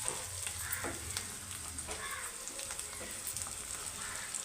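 Chopped tomatoes go into a pan of tender flat bean curry, which sizzles and fries steadily at low volume while it is stirred, with no talking.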